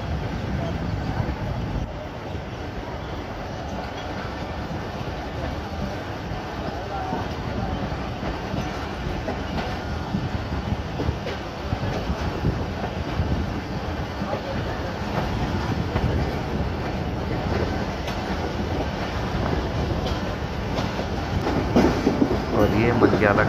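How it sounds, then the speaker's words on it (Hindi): A Pakistan Express passenger train rolls away from Mankyala railway station, its cars giving a continuous rumbling clickety-clack on the rails, steady and close throughout. "अब हमारी गाड़ी मनक्याला रेलवे स्टेशन से चल पड़ी है"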